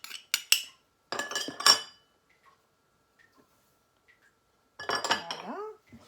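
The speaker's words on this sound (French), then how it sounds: "je mélange toutes les denrées sèches" Dry ingredients for gluten-free sourdough bread are stirred in a bowl, with bursts of clinking and scraping utensil strokes separated by a long quiet gap.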